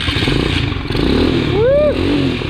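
Honda Trail 70 minibike engine catches and runs, a steady close-up motor drone with a short rising rev partway through, loud throughout under faint background voices.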